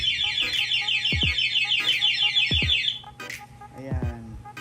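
A motorcycle anti-theft alarm on a Yamaha Sniper 150 blares in a loud, rapid warbling siren for about three seconds, then cuts off into quieter shop noise with brief chirps.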